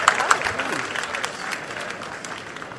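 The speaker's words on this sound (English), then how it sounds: "let's give it up another big round of applause for John Sinclair" A crowd applauds a speaker at an outdoor gathering on the University of Michigan Diag in Ann Arbor, a short burst of clapping that fades quickly while a voice talks over it.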